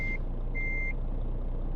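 A truck in Euro Truck Simulator 2 sounds its reversing alarm: two steady electronic beeps, one short and one longer, over a continuous low engine hum with no talk.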